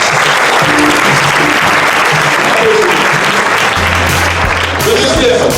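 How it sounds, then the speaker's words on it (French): A studio audience applauds a chef loudly and continuously, a dense wash of clapping with scattered voices mixed in. "donc vous pouvez encore l'applaudir"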